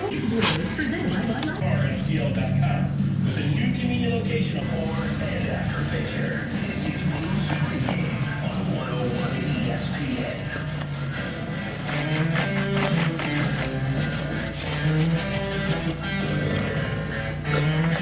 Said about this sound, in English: So I'm going to do some polishing on the race lines while I'm waiting for the primer to cure.